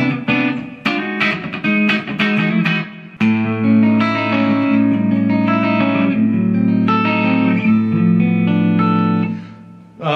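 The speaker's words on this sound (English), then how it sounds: "it's like an acoustic-y." Guitar strums and ringing chords from an Ibanez Universe through a Line 6 HD500 acoustic-like patch, bright tone with spacious reverb tail, played close and clearly without voices.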